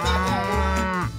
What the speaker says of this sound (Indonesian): Ini sapi. Sapi berkata, "Muu."